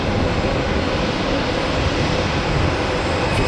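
A JetBlue airliner in special livery flies past, giving a steady, loud, broadband engine roar that holds throughout with no talking.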